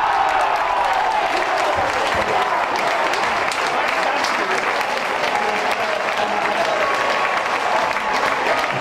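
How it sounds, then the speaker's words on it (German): A stadium crowd roars and cheers after a goal at an Oberliga Westfalen football match, a dense, loud, sustained wash of cheering and clapping that holds steady throughout. "Da jubelte das Stadion."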